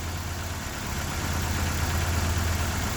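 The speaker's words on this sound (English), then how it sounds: "She's idling well." A car engine idles steadily and evenly, a constant low hum with a faint rhythmic pulse, close by and alone with no talking.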